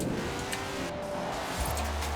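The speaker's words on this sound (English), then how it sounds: "Ah, I forgot how obnoxious this flipping engine sound is." A car engine in a racing video game drones steadily at a low level under the gameplay, with a brief rise in the engine note near the end.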